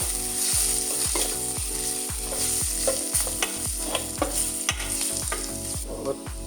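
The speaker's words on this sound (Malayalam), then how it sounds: "ജസ്റ്റ് ഒന്ന് ഇളക്കി കൊടുക്കാം." Spices, including chilli and coriander powder, are stirred in a frying pan on an induction cooker: a loud constant sizzle with rhythmic spoon scrapes about every half second and a mechanical ratcheting hum, close up and without talk.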